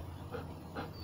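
A dog, excited and anxious during a morning training session, pants steadily with soft whimpers rising twice, close by and fairly quiet, with no talking.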